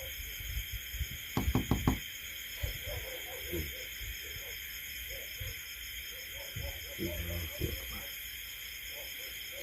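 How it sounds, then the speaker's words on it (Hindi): A quick cluster of four or five hard knocks lands early, followed later by a few softer taps, set against a steady hiss in a supposedly haunted room, with someone talking throughout. "जैसे दस्तक की आवाज़ होती है ना जी"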